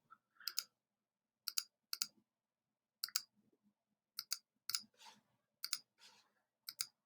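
Mouse button clicks while adding anchor points along a shape's edge in the Gravit design app, sharp dry clicks in small pairs and clusters with short pauses, close and fairly quiet, no voice.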